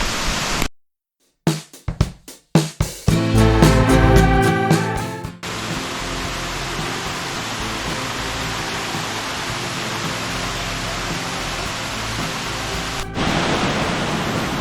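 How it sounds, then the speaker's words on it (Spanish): La Coca waterfall in El Yunque rainforest, Puerto Rico, seen from the roadside, gives a steady, dense broadband roar of falling water that fills the scene after a few brief bumps and louder handling noises at the start. "Esta es la vista de la cascada La Coca desde la orillita de la carretera"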